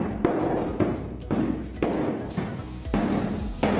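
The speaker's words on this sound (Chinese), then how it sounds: "初步涂匀后，再对地毯进行殴打" A thick carpet is beaten during a deep clean, producing dull, close thuds at a fairly steady beat, about one every half second to second, with no talking.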